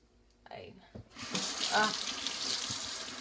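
Tap water gushes into a hookah base, starting after a few soft knocks and handling sounds, then a steady, loud, hissing flow that continues to the end.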